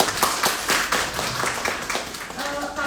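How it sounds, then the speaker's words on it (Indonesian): A parenting seminar audience claps in a quick, steady rhythm, a dense patter of hand claps held at an even level, with voices faintly mixed in. "Berikan tepuk tangan yang meriah."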